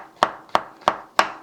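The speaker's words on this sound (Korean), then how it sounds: "표고버섯은 모양대로 잘라주면 됩니다." A knife chops shiitake mushrooms on a cutting board in four evenly spaced, sharp, close knocks.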